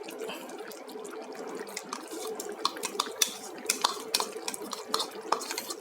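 Toasted coconut kerisik is stirred into chicken rendang in a pot, with steady scraping and repeated sharp clinks of the spoon against the metal that grow busier toward the end.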